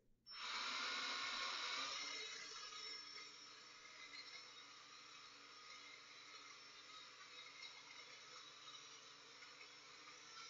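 Drone motors spin up after ignition with a sudden high whine that starts abruptly, peaks loudly in the first two seconds, then settles into a steady, slightly fluttering buzz for the rest of the clip.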